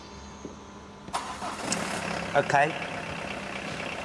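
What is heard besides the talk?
car engine starting and idling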